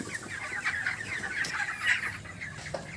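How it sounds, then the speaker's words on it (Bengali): Broiler chickens about 28 days old cluck and chatter in a steady flock murmur, with some raspy, wheezy cold-like notes among the calls, close by and continuous. "হালকা দুই একটা পাখি মনে হচ্ছে সাউন্ড খেচখেচ করছে, একটু সর্দি টাইপের"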